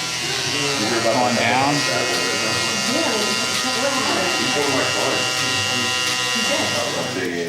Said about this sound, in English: going to detail a little more with the shaver.